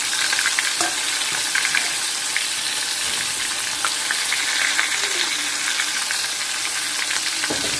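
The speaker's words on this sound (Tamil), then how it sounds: "எண்ணெய் இப்போ நல்லா சூடாகிட்டு நாங்கள் புரட்டி வச்சுருக்கிற நண்டை இதில் ஆட் பண்ணலாம்." Crab pieces frying in hot oil in a pan, a steady dense sizzle that runs loud and unbroken throughout, with light stirring scrapes and no voices.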